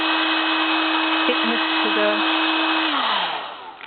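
A small handheld heat tool blows steadily on varnished glittered paper flowers, a constant close whirring hiss with a faint tonal whine that winds down near the end, while someone speaks briefly over it.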